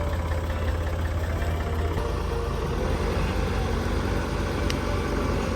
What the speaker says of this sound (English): And we have a tractor to rescue